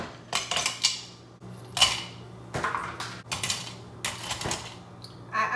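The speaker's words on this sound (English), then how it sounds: "All right, some ice in there." Ice cubes clatter into a margarita mixer in a series of sharp clinks and rattling bursts, close and fairly loud, with brief pauses between each drop for a frozen sour-mix margarita.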